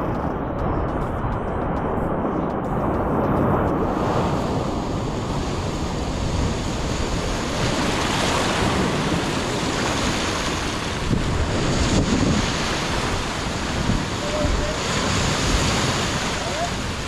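Loud, continuous rush of rough surf and wind buffeting the microphone, waves churning without pause, with a faint voice now and then.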